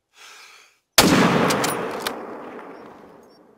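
A single loud hunting rifle shot fires in the video game theHunter: Call of the Wild, a sharp close crack that rolls into a long decaying echo, after a brief faint rustle.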